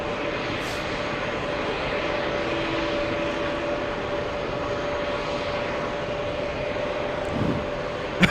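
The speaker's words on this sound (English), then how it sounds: "the A350 is gonna move out of the way, and the Dreamliner will park" An Airbus A350 jet taxiing near a gate at JFK airport on a cold day, its engines giving a steady, continuous roar with a faint constant whine throughout, no speech over it.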